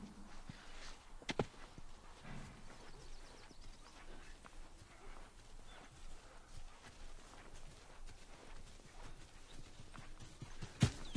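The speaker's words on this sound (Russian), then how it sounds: "Да не топай ты, как слон." Heavy footsteps thud steadily across the ground in The Last of Us, fairly quiet and distant, with a couple of sharper knocks and scuffs mixed in.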